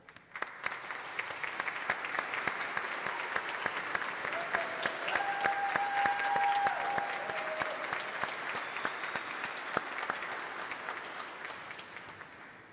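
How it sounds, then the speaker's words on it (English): A graduation crowd at a mortuary science commencement applauds the family and friends standing in recognition, with sustained, dense clapping that swells in the middle and fades slightly toward the end. "let us give you the round of applause you deserve"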